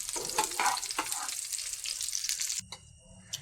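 Cauliflower pieces half-frying in hot oil sizzle and crackle busily with stirring for a few seconds, then the sound drops to a softer, quieter background.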